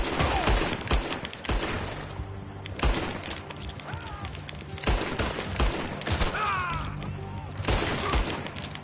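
Pistol gunfire in a video game, with rapid repeated shots and sharp bursts echoing over game effects, while a player talks under the shooting.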